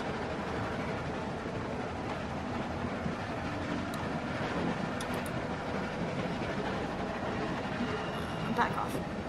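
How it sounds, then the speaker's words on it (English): A moving train in The Walking Dead video game, a steady loud rumbling rail noise with faint clatter filling the whole stretch, with a few brief high metallic squeaks near the end. "Stop the train. Stop it, goddammit!"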